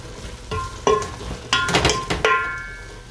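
Potatoes hit a hot pan and sizzle, with a few sharp metallic clanks and scraping stirs in quick succession over a low frying hiss, close up and without talking.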